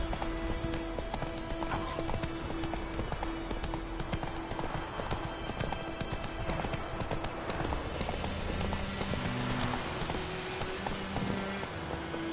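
Horse hooves clip-clop steadily while riding in the video game The Witcher 3: Wild Hunt, a continuous close trotting rhythm over a dense game soundscape, with a whinny and some talk near the end.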